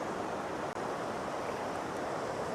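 The North Fork of the Skykomish River rushes steadily near Index, Washington, as a loud, continuous broadband wash with no break for the full stretch and no one talking.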